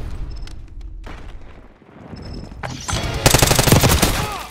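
Gunfire in Call of Duty Black Ops 6, a quieter stretch of combat ambience and distant shots building into a loud, close, sustained burst of rapid automatic fire at the end.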